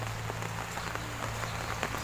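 Steady rain falls outdoors near a village, a dense even patter of drops on surfaces with a low hum underneath, continuous and moderately loud throughout.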